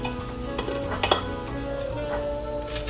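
Knife cutting through a hard, crispy air-fried frozen Eggo waffle on a plate, with a few sharp clinks and scrapes of metal against dishware, close and moderately loud.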